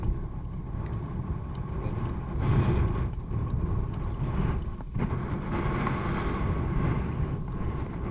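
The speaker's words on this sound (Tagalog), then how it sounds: "Hangin lang malakas dito mga adventure" Strong wind at a coastal spearfishing dive spot in the Philippines buffets the microphone with a loud, continuous low rumble, steady throughout, alongside a faint mechanical drone.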